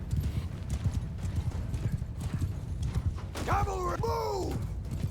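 Cavalry horses gallop with steady, dense hoofbeats in a Mount & Blade II: Bannerlord battle, and a loud whinny rises near the end, all under a voice.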